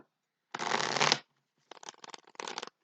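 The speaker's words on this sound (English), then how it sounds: "One more shuffle." Tarot cards shuffled up close: one long, dense riffling burst, then several shorter choppy shuffles after a brief pause, with no talking.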